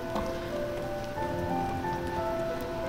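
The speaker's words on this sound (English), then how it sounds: "it's raining" Steady rain falls in the video game Night in the Woods, a soft continuous patter with faint tonal game sounds over it and no voices.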